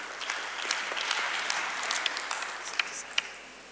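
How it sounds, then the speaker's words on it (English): Conference audience applauding at a health services meeting in Dodoma, a steady wash of many hands clapping with scattered sharper claps, fairly distant and moderately loud, no talk over it. "Thank you for the applause"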